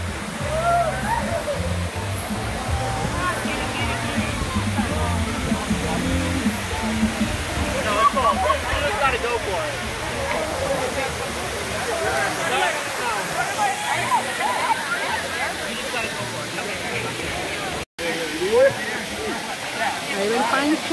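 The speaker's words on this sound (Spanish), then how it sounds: "Ahí va el Pancho hacia la cascada." A waterfall at Playa Yelapa near Puerto Vallarta, Mexico, roars steadily and continuously at close range, a dense rushing wash of falling water with no break.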